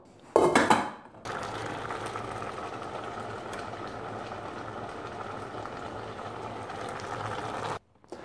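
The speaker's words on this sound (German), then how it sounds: "Dann stelle ich es mir auf den Herd und lasse das Ganze einmal aufkochen." Water in a pot on a stovetop comes to a boil, a steady bubbling rumble lasting several seconds after a brief clatter at the start, with no talk.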